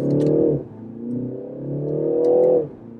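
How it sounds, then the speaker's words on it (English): A 2019 BMW 330i xDrive four-cylinder revs up in two rising pulls, its intake note climbing steadily then cutting off sharply as each gear shifts, heard from inside the cabin at moderate loudness. "It's like all intake noise from the front."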